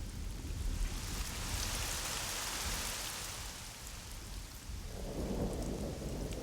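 Heavy rain pours steadily with rolling thunder, a dense continuous roar that swells and shifts midway, no voices over it.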